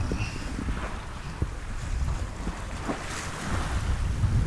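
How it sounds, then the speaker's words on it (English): Wind gusts across the microphone while waves wash and slap against the hull of a 20-foot sailing boat under sail at sea during a North Sea crossing. The roar is continuous and close, with no one talking. "the wind has picked up lovely now. We're proper sailing now"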